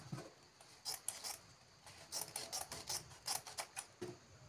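Scissors cutting through folded Asooke fabric, a run of crisp, close snipping strokes in an irregular rhythm, each blade closure a sharp rasp, with no talk over it.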